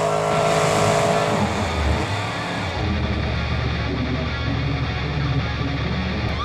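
The Bigfoot monster truck roars through donuts at a Monster Jam freestyle event, its engine revving loud and sustained with tires grinding, the pitch dropping partway as the run winds down.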